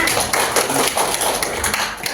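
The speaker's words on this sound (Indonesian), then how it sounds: "Beri tepuk tangan Mbak Yana" A classroom group claps for a student during a microteaching lesson, a dense, steady patter of hand claps at close range that fills the whole moment with no pause.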